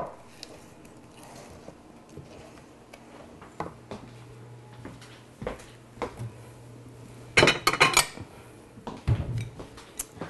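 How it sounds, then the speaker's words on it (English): A spoon stirring beans in a pot, scattered knocks and clinks against the metal over a quiet kitchen background, with a brief burst of rattling near the end and no talk. "Okay, beans off. Let's give them a nice little stir."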